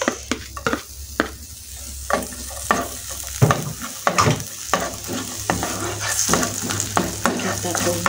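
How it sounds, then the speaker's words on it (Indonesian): Sliced shallots, garlic and bird's eye chili stir-frying in a pan, a continuous close sizzle broken by frequent sharp scraping and clacking strokes of a spatula against the pan, irregular and busy, with no talking. "Kita tumis sampai matang dan berwarna kecoklatan."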